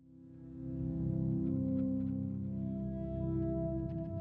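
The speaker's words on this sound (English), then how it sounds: "Now you have this kind of gorgeous pad sound." A sustained, lush synth pad from the Gravity Fields patch of the Emergence Audio Infinite Upright piano library swells in over half a second, then holds steady and loud with rich low harmonics and slow shimmering movement.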